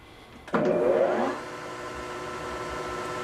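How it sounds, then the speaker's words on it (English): A metal lathe takes an interrupted cut on a Sophia tremolo bar to Floyd Rose adapter. A sudden loud, rattling whir starts, holds for about a second, then settles into a steady, quieter machine hum. "You're hearing so much noise because it's an interrupted cut."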